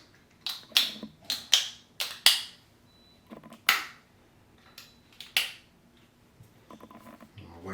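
Refined Bald Buddy shaver blades clicking into place, a series of about ten sharp, crisp snaps arriving in uneven clusters, close and fairly loud, with no talking.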